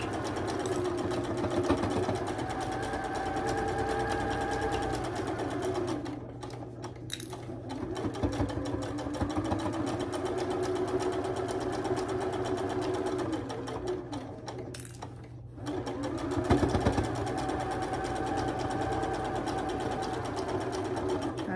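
Sewing machine running steadily while stitching the last 1/4 inch seam of a quilt block in purples and blues, a continuous loud mechanical whir with two brief pauses before it resumes.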